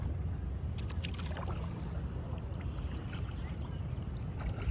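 Kayak paddling on water off San Diego, soft splashes and drips of the paddle strokes over a steady wash of wind and water, faint and close.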